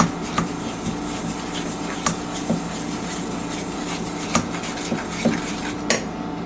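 Cracker dough mixed with water in a bowl gives repeated close scraping and clinking strokes of a utensil against the dish, in an uneven rhythm, with no talk.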